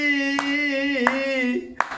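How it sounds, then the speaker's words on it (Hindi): Hands clap along to a devotional song, giving a few sharp, sparse claps over a steady singing voice. "ताली बजा बजा करके गाइए"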